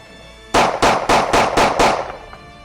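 Six rapid pistol shots fired with a DPM recoil reduction system, evenly spaced in a quick string, loud and close, each crack trailing into a short echo before it fades.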